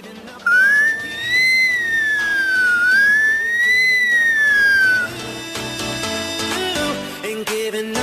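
A 12-year-old boy imitates an ambulance siren with a loud whistled wail that rises and falls for about five seconds, then stops, leaving background music.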